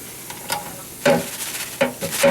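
French fries drain in hot frying oil, giving off a soft steady sizzle that swells in a few brief louder bursts, likely from the basket being shaken.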